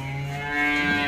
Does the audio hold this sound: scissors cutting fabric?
no